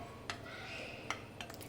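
A spoon clinks against a bowl while gram flour, salt, asafoetida and hot oil are mixed, giving a few faint, sparse taps spread over a quiet background.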